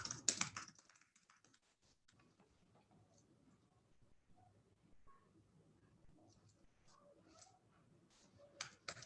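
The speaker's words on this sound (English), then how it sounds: "I'll type them in." Someone types on a computer keyboard during a live maths class, with a quick burst of loud keystrokes at the start, then sparse, faint irregular clicks and a final flurry of taps, close and with no talking.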